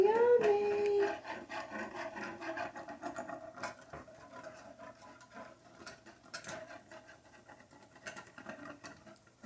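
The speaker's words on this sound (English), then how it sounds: "just scrape all those little bits of goodness off the bottom of your pan" A utensil scrapes the browned bits off the bottom of a hamburger steak and gravy pan, quiet irregular rubbing and scraping strokes running throughout, close up.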